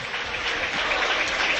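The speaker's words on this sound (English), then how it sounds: "Nice applause from the audience." High school basketball crowd in a gym applauds an injured player getting back on his feet, a steady wash of clapping held at even loudness throughout.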